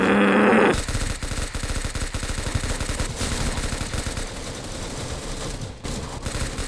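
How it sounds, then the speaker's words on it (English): A minigun fires in the Roblox game Arsenal, a dense, continuous rattling burst of rapid shots that runs loud and nearly unbroken for several seconds with only a brief dip near the end. "Ooh, I have a freaking minigun!"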